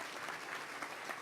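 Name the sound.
banquet audience applauding the co-hosts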